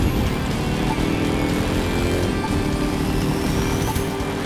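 A motorcycle engine roars steadily in the racing game The Crew 2, a dense, loud, continuous drone with little variation across the short stretch.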